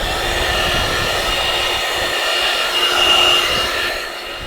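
A hair dryer blows close up with a steady, loud, continuous whoosh, warming a start-stop label on a Fiat 500 Lounge front panel so it can be peeled off.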